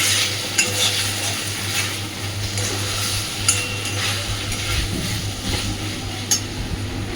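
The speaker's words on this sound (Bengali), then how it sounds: "পটলটা দেওয়ার পরে আরও ভালোভাবে একটু কষিয়ে নিয়েছি।" Pointed gourd (potol) being stir-fried with spices in a pan, a steady close sizzle broken by spatula scrapes and occasional clinks against the metal, continuous and fairly loud with no voices.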